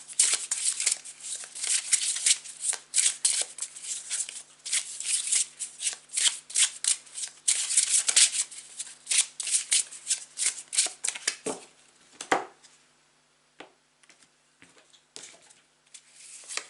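A tarot card deck shuffled close up, rapid riffling bursts and flicks in an irregular rhythm that thin out to scattered soft card taps near the end, with no talk.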